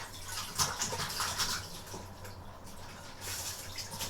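Cold water running from a tap into a sink, a steady hissing splash with a few brighter splatters, fairly faint and close, with no talking.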